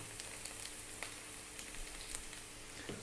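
Chopped garlic sizzling in a pan with softening onions and vegetables, a faint, steady crackling fry with small pops scattered throughout, no voices.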